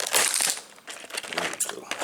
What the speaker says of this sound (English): upholstery scissors.